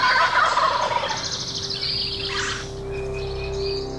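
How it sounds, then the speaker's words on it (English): An eastern wild turkey gobbles once with a rattling burst, fairly close and loud, in a New York forest, followed by faint outdoor background and a few distant bird chirps. "eastern turkeys."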